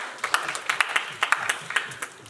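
Audience at a student broadcasting club's announcer book talk show gives a short round of applause, a scattered burst of individual claps that rises and fades over a couple of seconds.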